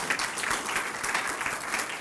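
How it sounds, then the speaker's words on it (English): Audience clapping at a medical devices grant presentation, steady moderate applause from a room of listeners lasting about two seconds. "Give a round of applause"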